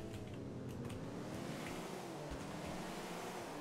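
Cars racing in Grand Theft Auto IV, a steady, dense engine roar with road rumble that holds at the same level throughout, no voices over it.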